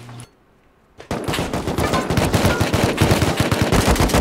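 Rapid automatic gunfire in the video game Rust, loud, dense bursts of shots hammering continuously after a brief quiet gap at the start.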